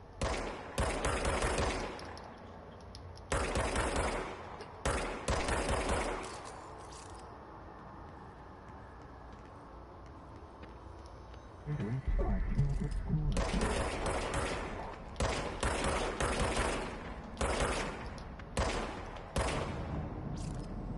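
A gun fires in the video game Control in several rapid, rattling bursts separated by quiet gaps, with a faint low hum between volleys and a longer, louder stretch of shots toward the end.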